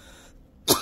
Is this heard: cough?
yes